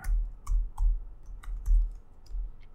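Computer keyboard typing while coding in MATLAB, a handful of separate clacky keystrokes with short pauses between them, close and clear with no talking.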